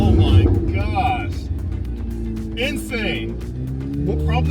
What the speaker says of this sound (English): probably one of the most beautiful sounding V8 cars in the world today